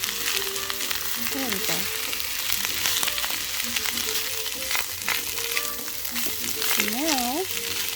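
Celery stir-fried for Hawaiian fried rice, a steady loud sizzle with stirring scrapes throughout, as a person speaks briefly over the frying.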